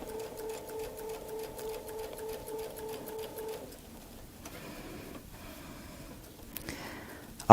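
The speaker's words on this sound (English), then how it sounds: "I'll finish sewing this one and the next one" A sewing machine stitches a Baptist fan quilt with a steady whirring run for about three and a half seconds, then stops, leaving quiet room sounds and light handling noises.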